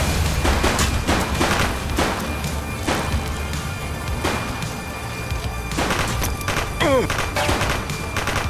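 Gunshots ring out during a police shootout in the video game The Precinct, a series of loud sharp cracks spaced irregularly over a busy background of crashes and thumps, with a cluster of quick shots toward the end.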